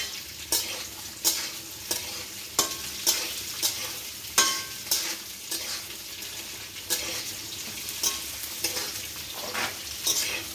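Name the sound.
stirring carrots in frying pan for vegetable fried rice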